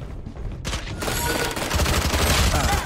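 Rapid automatic gunfire in the tactical shooter game Valorant, a dense, loud burst of overlapping shots and impacts that builds and stays sustained for about two seconds.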